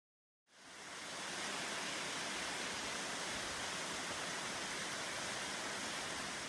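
Waterfall along the Appalachian Trail, a steady broadband roar of falling water that starts abruptly and holds constant and loud throughout, with no voices.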